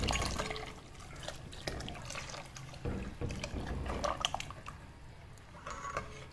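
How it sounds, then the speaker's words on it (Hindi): Milk blended with nuts poured into a pot for a nut milk shake, a soft continuous liquid pour with faint trickling and drips. "दूध ये डालते हैं जिसमें हमने रस को ब्लेंड किया था दूध में डाल के"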